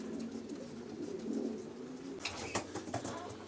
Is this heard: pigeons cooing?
yes